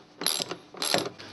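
A ratchet removes the 8mm screws from the control unit cover on a Volkswagen Passat, giving two quick bursts of close, crisp mechanical clicking with a short pause between them.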